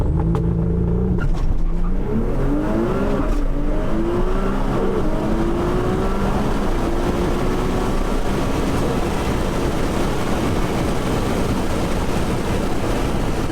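Nissan GT-R race cars, part of a UK high-horsepower runway event, accelerate hard with a loud, sustained engine roar and rising gear-shift pitch sweeps, heard close and continuous for the whole stretch.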